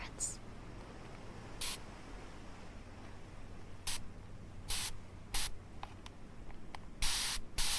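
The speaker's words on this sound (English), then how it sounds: "So it sprays really, really hard." A spray bottle gives several sharp, forceful spritzes, each a short bright burst of hiss, spaced irregularly and growing more frequent toward the end, heard up close against a quiet background.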